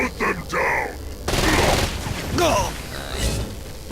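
SMG gunfire in the video game Saints Row: Gat Out of Hell, with a few bursts of light, muffled automatic shots and game effects. A voice talks over the firing throughout.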